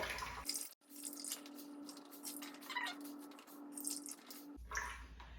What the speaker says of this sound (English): And then you take this piece and you press down. You see it drain the water for you.